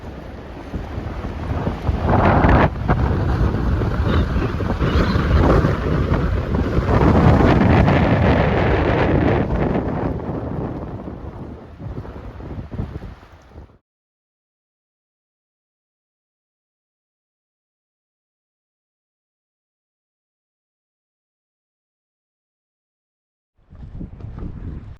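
Strong morning wind on a lake in Desolation Wilderness with whitecaps, roaring and buffeting the microphone loudly for about thirteen seconds, then cutting to silence before the gusts resume near the end.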